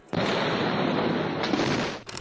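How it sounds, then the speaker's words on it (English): A massive explosion at a port city in China, heard as a sudden violent blast followed by a sustained roaring, rumbling wash of noise lasting about two seconds before cutting off, loud and without talk. "horrific video pouring in of a series of catastrophic explosions in a major Chinese port city late Wednesday"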